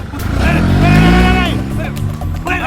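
A car drives off with a loud engine surge that rises in pitch, then fades, and a short tire squeal may be in it. Voices talk over the engine throughout.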